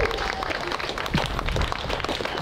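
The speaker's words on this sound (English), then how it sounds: "Round of applause, guys, fantastic." Wedding guests applaud in a dense, steady wash of clapping that fills the room at close range, with some crowd noise mixed in.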